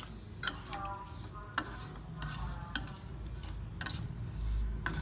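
Small fish are stirred in a pot with fish sauce seasoning, soft scraping and a few sharp utensil clicks against the pot, quiet and close.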